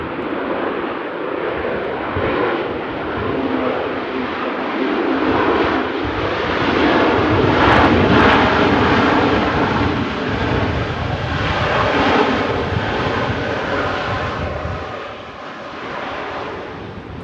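A Ryanair passenger jet lands in a crosswind at Manchester Airport, its broad engine roar rising to a loud peak mid-clip and then easing off, steady and continuous without voices.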